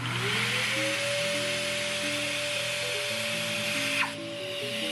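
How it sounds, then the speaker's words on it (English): A Hercules tool-activated shop vacuum dust extractor runs steadily and loudly up close, with a rising whine as it spins up and a brief shift in tone near the end. "this vacuum will power on and start extracting"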